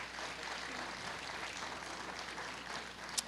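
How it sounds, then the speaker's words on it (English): Audience applause at a student union ribbon-cutting ceremony, a soft, even wash of many clapping hands at a distance, steady and fairly quiet with one sharper snap near the end. "we will give them a round of applause nonetheless"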